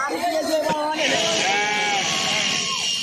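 Sheep being shorn bleat loudly and close by, several wavering cries overlapping with a busy background of flock noise.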